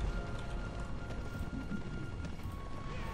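Horses gallop in the fantasy strategy game Battle for Middle-earth, a faint, continuous patter of hooves under low, busy game ambience.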